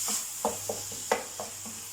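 A spoon stirs browned kofta mince and thyme in a frying pan, making several soft scraping strokes at an irregular pace over a low, constant sizzle, heard close and with no talking.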